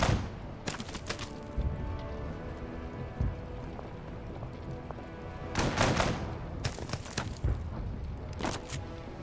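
Gunfire in the Total Tank Generals World War II tank strategy game, a few sharp loud cracks with quieter thuds scattered between them over a low background rumble.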